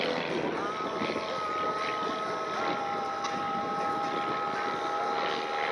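An aircraft flies low near the runway at the Props & Pistons Festival airshow in Akron, Ohio, giving a steady droning engine tone with wind noise, moderately loud and constant.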